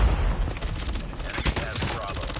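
Rapid, loud gunfire from an FR assault rifle in COD Mobile, dense overlapping shots and booms close up across the whole stretch.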